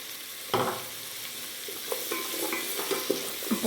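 Bottle gourd, radish and potato are stirred together in a pot, giving a faint hiss with a sharp knock at the start and scattered scrapes and clinks of the spoon, close and unaccompanied by speech.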